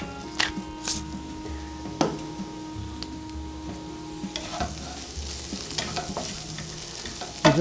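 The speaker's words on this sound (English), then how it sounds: "You just want to keep stirring your home fries so they don't stick." Home fries get stirred in a frying pan, making a soft, continuous sizzle with intermittent spatula scrapes and taps, close and fairly quiet, no one talking.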